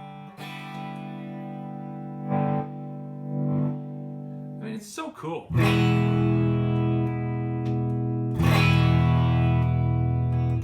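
Yamaha SBG-3000 electric guitar played through distortion and chorus effects: sustained chords ring out, pausing briefly for muted scratchy strums before louder ringing chords return. A voice speaks briefly over it.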